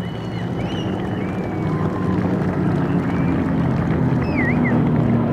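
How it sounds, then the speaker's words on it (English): P-51 Mustang propeller engine droning at an airshow heritage formation flight alongside an A-10 and F-16; a steady, distant low rumble with wind noise and faint high chirps on top. "the only sound you can hear there with the P-51."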